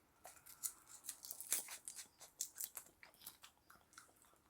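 Crunchy chewing of 32-year-old microwave popcorn, close and fairly quiet, with irregular dry bites and crackles spread steadily across a few seconds.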